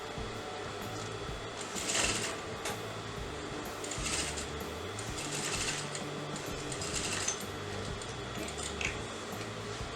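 A sewing machine stitches a half collar neck on fabric, running in a steady mechanical whir with rhythmic bursts of faster needle chatter, close and fairly quiet.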